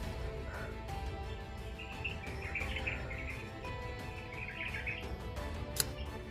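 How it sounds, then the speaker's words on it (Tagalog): Birds chirp and twitter outdoors in the Philippine wild, their faint calls rising over a steady rush of wind that fills the whole stretch. "yung mga narinig ko mga tol ay huni lang ng mga ibon at saka ng hangin"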